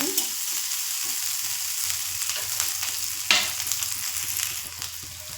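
Mustard seeds, grated ginger and green chilli sizzle in hot oil with a steady crackling fry, a few spoon stirs, and a sharper tap near the middle; no talking.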